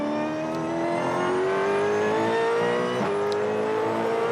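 Onboard sound of the Red Bull race car engine, a loud, continuous high-pitched drone rising steadily in pitch as it accelerates, with a brief dip around a gear change near the end.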